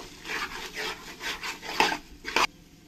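A spoon scrapes and rubs rhythmically through spice masala with chilli powder for chicken biryani in a pan, several strokes ending in two sharper knocks, no talking.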